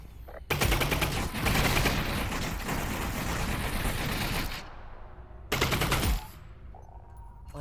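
Energy gun fire in the Half-Life: Alyx game, a loud sustained burst of rapid shots lasting about four seconds, then a shorter second burst after a brief pause.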